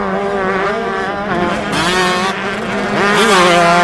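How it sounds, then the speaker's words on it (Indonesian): A toy motocross motorcycle gives a loud, steady, buzzing engine drone with rising and falling pitch sweeps, heard up close and alone. "Ini adalah motor cross."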